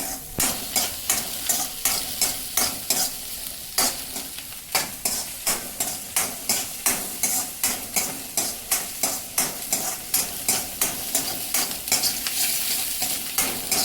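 Garlic, onion and ginger sautéing in a pan over a high flame, with steady frying sizzle and a quick, regular scraping rhythm of stirring strokes throughout, close and fairly loud.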